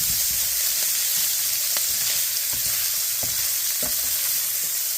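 Ground beef for tacos frying in a pan, a constant close sizzle with repeated scraping strokes of a spatula as it is stirred, no voices.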